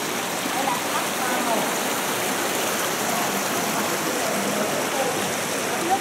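A mountain stream in Cao Bằng rushes steadily near a village crossing, a dense, even broadband wash of flowing water that holds unchanged throughout, close and fairly loud.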